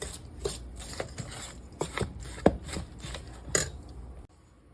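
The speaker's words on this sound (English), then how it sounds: "now you want to mix this together until it resembles a crumble" Brown sugar crumble topping for a caramel apple crisp being mixed by hand in a bowl, a series of quiet, close scraping and rubbing strokes at an uneven pace, ending in near silence.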